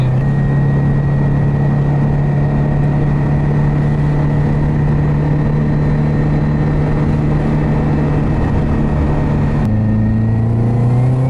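A tuned Subaru car engine accelerating hard on a road, a loud steady drone rising in pitch, then briefly dropping at a gear change before climbing again, heard from inside the car with no talking.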